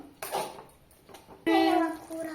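Dried fish curry with tender tamarind leaves and garam masala being stirred in a pot, with a few metallic clanks and scrapes of a spoon against the pot, while someone talks nearby.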